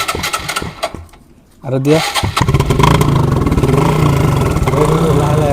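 A motorcycle with a balloon fitted over its silencer cranks, catches and starts, then settles into a loud, close throbbing idle with rising revs, while someone talks over the start.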